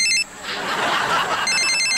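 A telephone rings in a jungle setting with two short electronic ring bursts, one at the start and one at the end, and a soft rushing noise between them.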